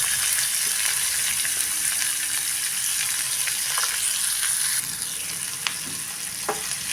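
Finely chopped large onion sizzles in a pan of hot chilli and curry-leaf tempering, a constant bright hiss with light stirring clicks that drops a little in level partway through, and no one speaks.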